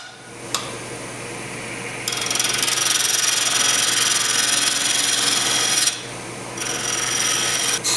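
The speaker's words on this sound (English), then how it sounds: "I'm gonna just take my spindle gouge and scrape this." A spindle gouge scraping a spinning birdhouse ornament on a wood lathe, a loud steady high hiss over the motor hum that starts after a couple of seconds, breaks off briefly, then resumes.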